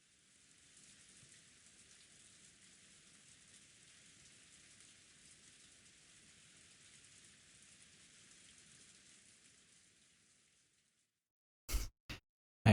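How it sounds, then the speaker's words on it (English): Steady pouring rain on asphalt from the visual novel game Umineko no Naku Koro ni, a soft even hiss that runs for about ten seconds and then cuts to silence, followed by a few sharp clicks. "Apparently, I was lying on asphalt under the pouring rain."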